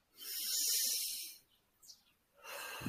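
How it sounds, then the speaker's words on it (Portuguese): One slow, deep breath drawn in through the nose with a long, soft hiss, a brief hush, then a gentle exhale. It is close and quiet, with no talking over it. "Mais uma respiração profunda."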